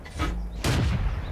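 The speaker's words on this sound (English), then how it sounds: "looks like the artillery is hitting him" Artillery shells slam into a tank in World of Tanks: two heavy booms land close together, the second one deeper and rumbling longer.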